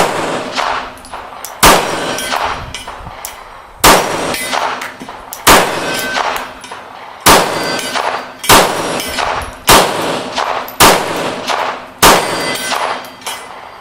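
Repeated 9mm pistol shots from a Springfield Range Officer, each followed by a ringing clang of bullets striking a steel silhouette gong on a range; about eight loud, sharp reports spaced a second or two apart, with no talking.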